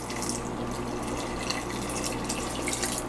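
Tap water runs steadily into a container while about four litres are added to crepe paper pulp for a wool-cake craft recipe, a continuous close splashing and trickling flow with no talk.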